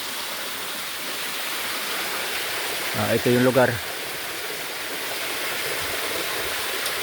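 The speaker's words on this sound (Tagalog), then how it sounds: "ayun yung talon nila oh" A waterfall roars in a steady, even rush from start to end, with a voice briefly speaking over it near the middle.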